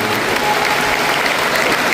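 A large audience at a Shiv Katha religious gathering held by an Ahir community in Pindara bursts into dense, sustained clapping that stays loud and even for the whole stretch.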